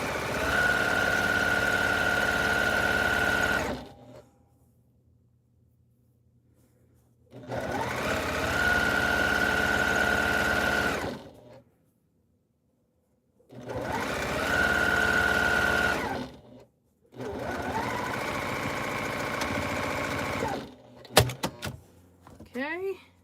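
A sewing machine stitches a tote bag in four loud bursts of a few seconds each, separated by pauses of near silence, with a short clatter near the end.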